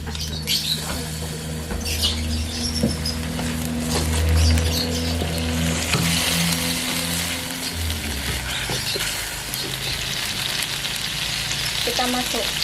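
Smoked stingray sautés in a hot pan, a loud continuous sizzle with crackling spatter and occasional stirring scrapes, a low hum running beneath.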